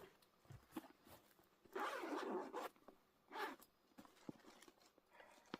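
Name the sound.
zipper on a storage bag being opened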